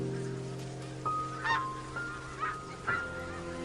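Geese honk several times in short bursts over a steady low outdoor hum, calls spaced irregularly and moderately close.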